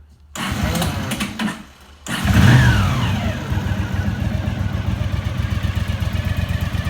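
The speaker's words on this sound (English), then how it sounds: "we'll go ahead and start it up here." A 1981 Honda GL500 Silverwing Interstate motorcycle engine, with 55,000 miles, cranks briefly, catches and fires up with a rev, then settles into a steady, loud, throbbing idle.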